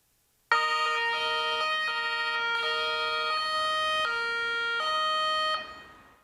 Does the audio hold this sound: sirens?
yes